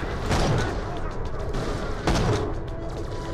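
Gunfire in the video game Borderlands: The Pre-Sequel comes in two sharp bursts of shots, the second about two seconds after the first, over a continuous game soundtrack.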